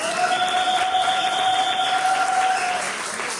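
Steady applause from a wedding audience for the couple, with sustained whistle-like cheering tones held over the dense clapping throughout.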